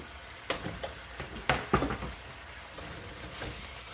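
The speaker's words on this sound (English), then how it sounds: "Now we're gonna stir fry this" Sliced onion stir-frying in a hot pan makes a soft continuous sizzle, broken by sharp scraping and clattering strokes as it is tossed and stirred, close and moderately quiet.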